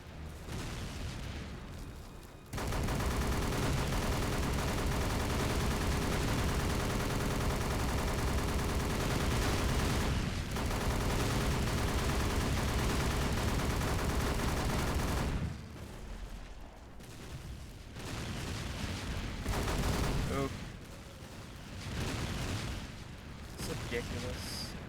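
Sustained, dense gunfire from a Pacific-theater World War II combat game fills about thirteen seconds as a loud continuous roar, then breaks into shorter bursts separated by brief lulls.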